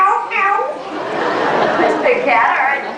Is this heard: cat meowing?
yes